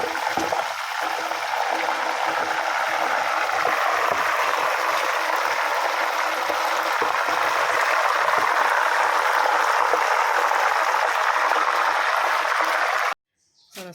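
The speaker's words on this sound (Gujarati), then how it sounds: "અવાજ પણ બહુ જ આવે પાણીનો" Water poured into a hot pan while making banana wafers, giving a loud, steady hiss and rush that fills the clip alone and cuts off abruptly near the end.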